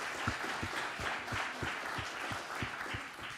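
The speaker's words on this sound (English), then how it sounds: "let's give another round of applause here." An audience at a cycling forum in Copenhagen gives a round of applause, with dense, even clapping that holds steady and continuous throughout.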